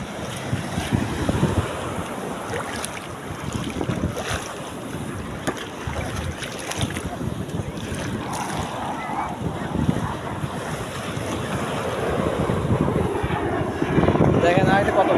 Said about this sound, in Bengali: সমুদ্রের ঢেউটা যে কত বড় করে আসে দেখেন ভাই